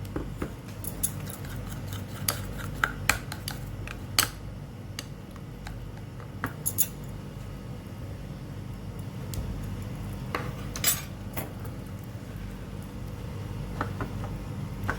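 Spoon stirring almond powder into olive oil in a small bowl, heard as soft scraping and scattered light ticks and clinks against the bowl over a low steady background, fairly quiet throughout.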